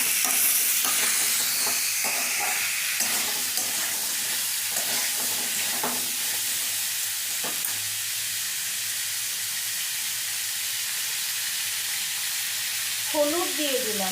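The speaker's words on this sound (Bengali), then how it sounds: "গাজর কাটাটা দিয়ে দিচ্ছি, বিট কাটাটা দিয়ে দিচ্ছি। এবার একসাথে ভালো করে ভেজে নেব।" Cut carrot and beet frying together in a pan, a loud, steady, close hiss of sizzling oil with scraping stirs in the first half, then mostly even sizzle.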